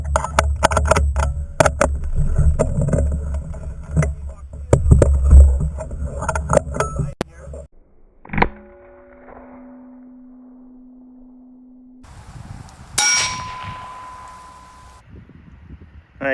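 Rifle shots ring out as a .17 Mach 2 round strikes a steel connecting rod, a sharp crack near the middle followed by a sustained metallic ring, then another bright clang later, outdoors with light background rustle.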